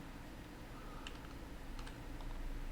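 Soft computer keyboard typing during 3D CAD modelling in SolidWorks, with a few quiet key clicks clustered in the middle over a steady background hum.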